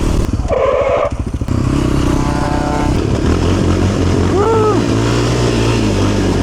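An ATV quad bike engine runs steadily while riding, a loud low drone with clattering and scraping, while voices talk over it throughout.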